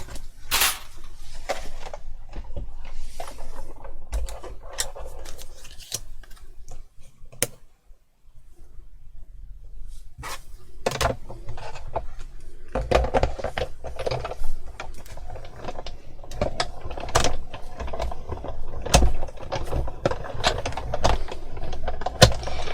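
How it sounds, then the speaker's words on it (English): A Big Shot die-cutting machine runs silver card through an intricate die several times, giving a stretch of close, loud cranking, clicks and knocks, pausing briefly midway before the rolling and clunking resume. "So for this I'm just going to quickly just use my Big Shot."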